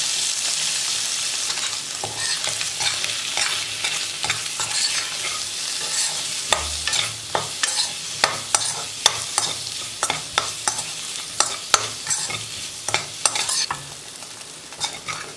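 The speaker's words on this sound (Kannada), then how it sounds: "ಇವಾಗ ತುಪ್ಪದಲ್ಲಿ ನಾವು ಪನ್ನೀರ್ನ ಫ್ರೈ ಮಾಡ್ಕೊಳ್ಳೋಣ" Paneer frying in ghee with salt, turmeric and chili powder, a steady close sizzle broken by frequent sharp scrapes and clacks of a spoon stirring in the pan, without any talking.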